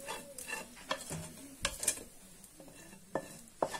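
Chinese vermicelli noodles toast in a frying pan with a soft sizzle, broken by scattered scraping and clinking stirs of a utensil against the pan. The sounds are fairly quiet and there is no speech.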